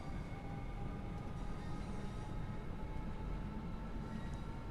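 Electric train on the Southeastern High Speed line in Train Sim World 2, a steady rumbling run with a constant low drone and faint high whine as it rounds a curve.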